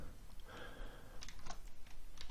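Computer keyboard being typed on, a few faint light clicks and taps close by over a quiet background hum, with no talking.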